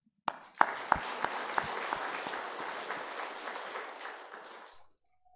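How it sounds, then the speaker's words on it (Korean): A church congregation at a Sunday service bursts into applause, starting with a few sharp claps that swell into steady clapping from many hands, then tapering off and stopping, with no talk over it. "박수를 하려면 다 같이 합시다."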